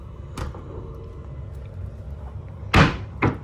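A deep hotel room drawer at the Hilton Universal Hollywood slides open, giving a faint rub and then two sharp knocks close by as the wood bumps its stop.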